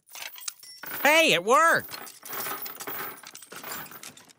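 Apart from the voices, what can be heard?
handcuff and shackle keys jangling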